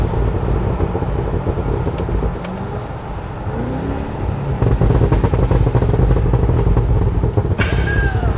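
Cadillac Escalade V engine heard through open windows, a loud, steady, deep rumble and roar building under the cabin, with a brief higher rush near the end.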